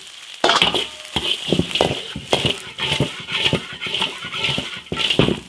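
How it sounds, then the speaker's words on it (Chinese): Ginger, garlic, Sichuan pepper and dried chili stir-fried in an iron wok beside a reservoir, with repeated scraping spatula strokes and clattering against the metal over a light sizzle. "生姜、大蒜、花椒、干辣椒炒香。"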